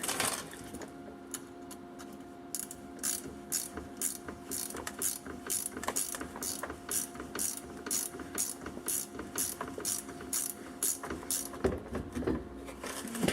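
A ratchet turns bolts on the driveshaft of a Jeep WJ in a garage, giving steady rapid clicking bursts that repeat close by for the whole stretch with no talk.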